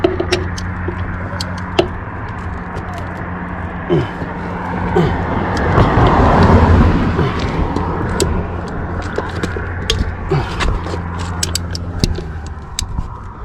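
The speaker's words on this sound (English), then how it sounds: "Sketchy ass cars passing by right now." Cars pass on a nearby road, a rumbling swell that builds and fades in the middle over a steady low engine hum, with scattered clicks and knocks close by.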